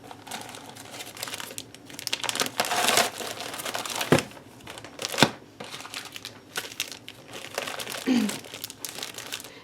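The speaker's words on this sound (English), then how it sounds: "all of this stuff I'm going to go ahead and slide into this baggie" Scrapbooking pattern paper and other loose items are slid into a plastic baggie, producing close crinkling and rustling in uneven bursts with a few sharper crackles.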